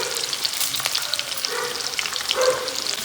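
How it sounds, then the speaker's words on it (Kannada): Urad dal frying in ghee, with onion, gives a steady close sizzle with soft crackles and a brief louder flare near the end, no talking. "ಚೆನ್ನಾಗಿ ಇದನ್ನು ಫ್ರೈ ಮಾಡಬೇಕು."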